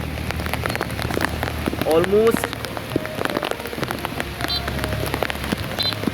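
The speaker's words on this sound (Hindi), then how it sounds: "this is the heaviest rain hair probably since 2022" Heavy cloudburst-like downpour in North Karachi: dense, steady roar of rain pounding surfaces close by, with a brief voice speaking under it.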